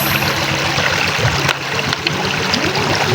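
River water flowing over a row of stones stacked to deepen a bathing spot, a steady close rushing and splashing wash with no talking.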